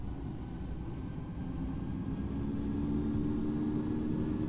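Airplane engines spooling up for takeoff in Infinite Flight, a steady low rumbling drone that grows slightly louder and fuller, with no talk.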